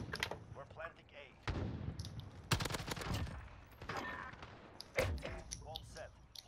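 Pistol shots from dual-wielded handguns in a Call of Duty Search and Destroy match crack out in a few sharp bursts, loud and close, with voices talking between and over the shots.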